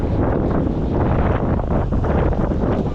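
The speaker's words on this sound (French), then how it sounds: "je pédale même pas parce que je suis poussé par le vent" Strong stormy wind buffets a cyclist's microphone on a bicycle ride, a loud, continuous roaring rush with gusty fluctuations and no speech.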